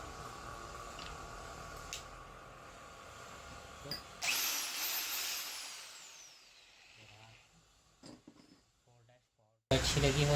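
A Powerbilt 4-26 rotary hammer drill runs in a loud burst of about two seconds and then winds down, with clicks and handling noises before and after it.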